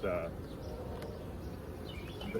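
Honey bees buzzing around an opened double hive during colony consolidation, a steady low drone at close range with faint background noise.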